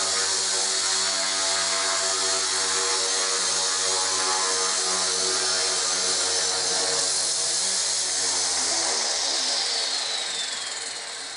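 A WL Toys V950 RC helicopter whirs indoors in an enclosed room, its rotors and motor holding a loud, high, steady whine, then winding down and fading toward the end.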